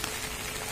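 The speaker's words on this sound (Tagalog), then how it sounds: "Basang-basa na sa ulan." Steady hiss of heavy typhoon rain falling outdoors on surfaces, dense and continuous with no distinct drops or pauses.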